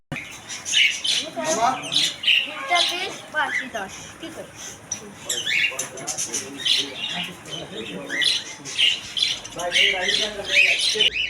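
Shrill, repeated cockatiel squawks fill a bird and aquarium shop, overlapping with nearby people talking, with loud harsh calls bursting out throughout.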